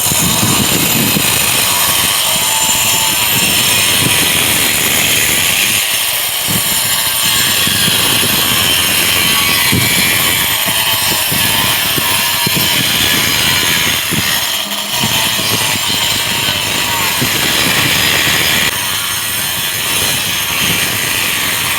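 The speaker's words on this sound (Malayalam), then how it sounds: "അപ്പോൾ നമ്മൾ കട്ട് ചെയ്യുന്നത് 5 ഇഞ്ചിൻ്റെ മെഷീനിട്ടാണ് കട്ട് ചെയ്യുന്നത്." A 5-inch cutting machine runs loud and close without pause, a harsh grinding whine that dips slightly now and then as the blade bites into the material.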